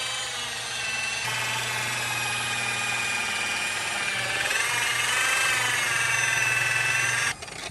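A rotary polisher buffs the fiberglass gelcoat of a boat under heavy pressure, producing a steady, close motor whine that holds for several seconds before dropping off near the end.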